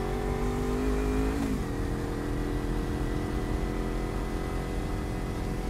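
A Kawasaki Ninja motorcycle engine runs close by in a steady, loud drone, its pitch dipping briefly early on before holding even, with no talking.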